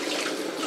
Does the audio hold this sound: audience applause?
no